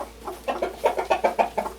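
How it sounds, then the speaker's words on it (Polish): Hens on a farm cluck close by in a quick string of short, rhythmic bursts that lasts just under two seconds, with no talking. "Razem z Madzią zbieramy jajka od kur."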